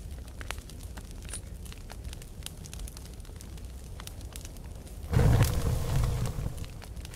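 A campfire in the survival video game The Forest, with a fish thrown straight into the flames, crackles and pops steadily at low level, then flares into a louder sizzling rush for the last couple of seconds, with no voices.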